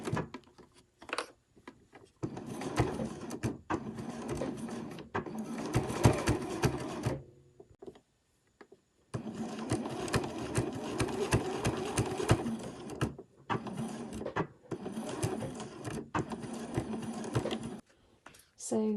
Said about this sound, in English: we're just going to stitch down here with a 1 centimetre seam allowance